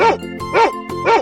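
A cartoon dog in a 3D animal racing game barks three times in an even rhythm, loud and close, with no other sounds between the barks.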